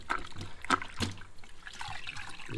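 Foam air filters from a 50cc motocross bike squeezed and bunched in and out of a bath of solvent, giving repeated wet sloshing and squelching bursts with dripping liquid, close by and without talk.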